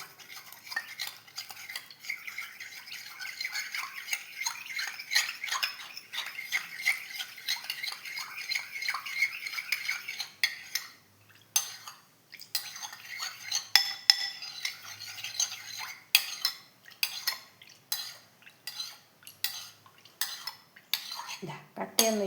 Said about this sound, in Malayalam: ഇനി ഇത് ഞാൻ ഈ പാലിൽ കലക്കട്ടെ. കട്ടയൊന്നുമില്ലാണ്ട് നമുക്കിതിനെ കലക്കിയെടുക്കാം.